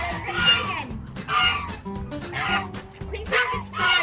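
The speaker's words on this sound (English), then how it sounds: "Some normal chickens, common chickens." Common farm chickens cluck in repeated bursts close by, with a steady low murmur underneath and no clear talk.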